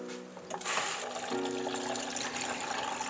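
Water poured into a container for hibiscus tea made from dried hibiscus flowers, a steady gushing and filling sound, close and moderately quiet, running alone without speech.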